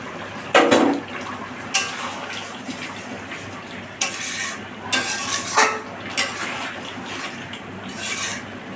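Meat curry in a pan with water, cumin and garam masala paste, being stirred and scraped in repeated rasping bursts over a soft, steady simmering hiss, close by with no talking.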